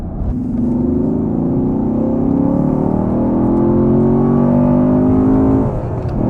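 A Chevrolet Camaro SS 1LE's 6.2-liter LS V8 revs hard on a race track and climbs steadily in pitch, loud and close, holding a sustained roar before easing off near the end.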